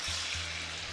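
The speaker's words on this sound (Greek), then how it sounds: "Προσθέτω τα καλαμαράκια." Small squid tossed into a hot pan set off a steady, loud frying sizzle that fills the whole moment, with a low rumble underneath and no voices.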